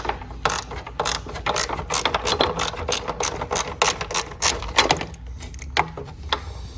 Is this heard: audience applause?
no